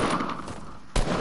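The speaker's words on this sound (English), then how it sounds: "I'm shooting at him." Gunfire in the Fortnite video game: a loud, sharp burst of shots cuts in near the end of a short stretch of steady game noise.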